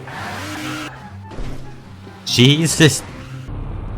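A toy car in Garry's Mod drives with an engine whine, then loud squealing skids with rising and falling pitch. A player exclaims over it.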